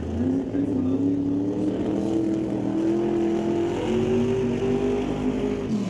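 A Double B funny car makes a single drag-racing run up the left lane at an NHRA Northwest National Open event, a sustained droning engine roar with rising pitch, fairly distant and steady, no voices.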